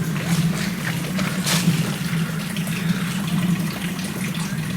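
Steady rushing water flowing from a source in a small woods, continuous and fairly loud outdoors with no talking.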